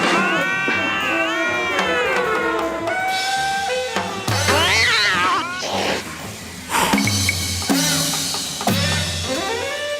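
Several domestic cats meow and caterwaul loudly in drawn-out, rising and falling cries, one after another and sometimes overlapping, with occasional crowd-like noise and shouting mixed in.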